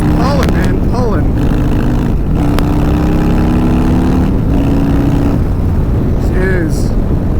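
A Harley-Davidson motorcycle with a 131ci Stage 4 engine roars as it accelerates, its pitch repeatedly climbing and dropping through gear changes, loud and close, with voices talking over it.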